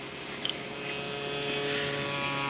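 A radio-controlled Corsair model airplane, an 82-inch scale build from Bob Holman plans, drones steadily through the air, its engine a continuous buzzing whine that holds steady and swells slightly over a few seconds.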